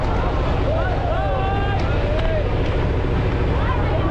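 A speedboat roars past on Kaptai Lake in Rangamati, its engine a steady, loud drone mixed with wind buffeting. People talk over it.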